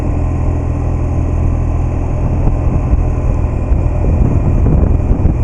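A 2007 BMW R1200GS shaft-drive motorcycle engine runs at steady throttle with uneven drivetrain lash, a loud close rumbling drone with a rough, slightly pulsing low end.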